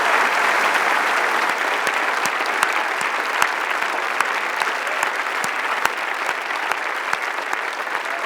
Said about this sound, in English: ask all of you to stand up and applaud for the CGI team